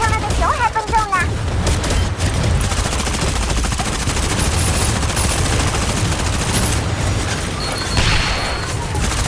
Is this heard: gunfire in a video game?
yes